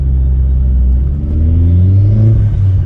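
Opel Corsa OPC engine heard from inside while driving, a loud, close, steady rumble with revs rising smoothly as the car accelerates, no talking.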